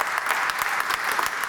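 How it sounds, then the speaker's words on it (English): An audience applauds public workers at a Cleveland Pride Month event for a new bathroom: dense, steady clapping that fills the whole stretch, loud and close, with no voices over it. "Let's give them a round of applause too."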